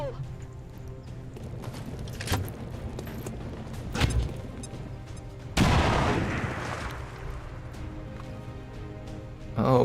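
A grenade blows up in XCOM 2 as one sudden, loud blast midway that rolls off over about a second, set among scattered thumps and background game noise.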